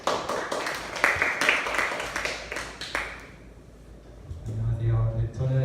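Applause at an academic conference in Korea as a presenter is introduced: scattered claps fade out over several seconds, then a voice starts speaking close by.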